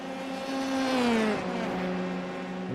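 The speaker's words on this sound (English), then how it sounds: "You just hear these tires struggling for grip." Race car tires struggling for grip at Watkins Glen in a racing sim, a droning high engine note that sweeps down as the car slides, with a tonal squeal under the engine and no talk.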